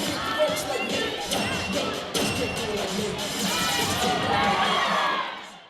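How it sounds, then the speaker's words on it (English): A school cheer squad performs its routine at an assembly, with a loud, steady crowd roar of cheering, shouting children and scattered thumps running throughout, swelling toward the end before fading. "First, we had cheer perform their outstanding routine."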